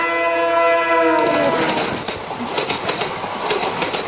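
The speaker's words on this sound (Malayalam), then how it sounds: "ഈ റെക്കോർഡ് ചെയ്തോണ്ടിരിക്കുന്ന സ്ഥലത്ത് ചില സമയങ്ങളിൽ ഇങ്ങനെ ട്രെയിൻ പാസ് ചെയ്യുമ്പോൾ" A passing train blows a loud, sustained horn for over a second, then its wheels clatter past in a rhythmic rumble close to a small recording studio.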